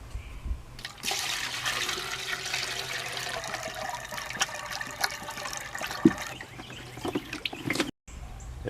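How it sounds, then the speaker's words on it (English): Water is poured into an in-ground Everbilt 1-1/2 HP pool pump to prime it, making a steady splashing gush that runs for several seconds, then stops abruptly and trickles briefly. "next thing to do is fill it with water to prime it"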